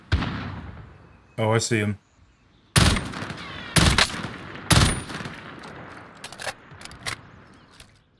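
Gunfire bursts in Call of Duty: Modern Warfare Warzone, several loud sharp volleys spread across the stretch, with players talking between and over the shots.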